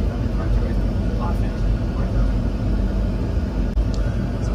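Inside a Boeing 747-8 accelerating in its climb, a constant low engine and airflow rumble fills the cockpit while voices talk over it.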